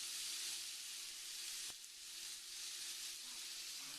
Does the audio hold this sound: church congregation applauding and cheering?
no